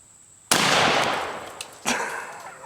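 A Remington 870 shotgun fires a single loud blast from the hip outdoors, followed by a long decaying echo and a second sharp report or rattle shortly after.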